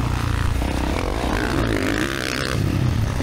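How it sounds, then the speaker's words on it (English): A 2024 Kawasaki KX450 motocross bike with an FMF exhaust roars steadily up close, its engine pitch rising and falling as it revs without pause. "FMF exhaust sounds so good."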